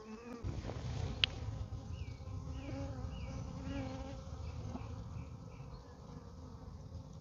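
Honey bees in a mating nuc give off a dense, steady close-up buzz, with individual bees whining past now and then, fairly faint overall.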